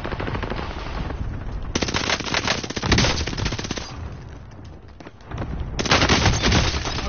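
Rapid machine-gun fire rattles loudly and continuously in a PS4 shooter game, with dense automatic bursts swelling and easing over several seconds and no talk.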